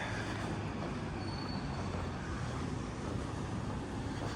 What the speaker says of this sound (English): Oh, there's another train up there.